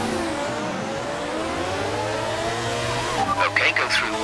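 F1 racing car from F1 2019 idling and revving on the starting grid, a steady engine drone with a sharper burst of revs near the end; a voice speaks over it.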